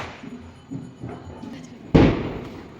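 Diwali firecrackers and fireworks going off over Almora, India: a series of thumps and pops that ends in one sharp, loud crack, heard at a distance with no talking.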